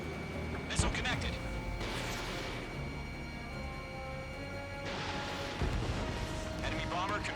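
A missile strikes an enemy bomber in the Ace Combat 7 flight combat game. A sharp impact boom lands early, set in a dense, steady roar of jet engines and battle noise, with radio voices talking over it.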